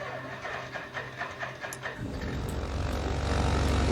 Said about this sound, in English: now let's start the port engine